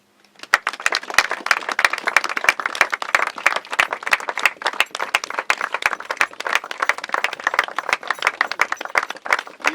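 Sustained applause from a crowd of mourners paying tribute at a funeral, dense rapid clapping that starts abruptly and continues steadily and loudly throughout, with no voices standing out.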